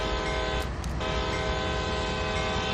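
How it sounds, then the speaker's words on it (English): A sustained, droning train horn blasts continuously over engine rumble in the Train Sim World 2 video game locomotive, loud and steady throughout. "Open the window so we can hear the horn better."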